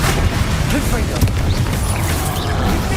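Confringo blasting spell explosion in Hogwarts Legacy, a dense booming burst of crackling blast noise filling the short moment alongside continuous combat rumble.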